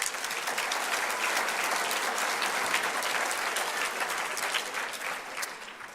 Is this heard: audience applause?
yes